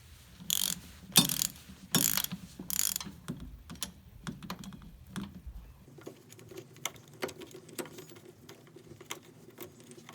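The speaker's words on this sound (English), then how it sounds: "So let's crack this bolt." A ratchet wrench clicks in quick bursts while loosening a 19 mm bolt on an 8th-generation Honda Civic Si, with rapid pawl ticks and a few louder clacks close by.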